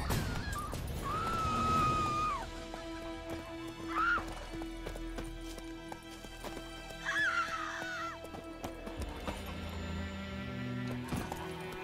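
A horse in the video game The Witcher 3 whinnies several times while its hooves clip-clop steadily underneath, close and clear against a quiet game background.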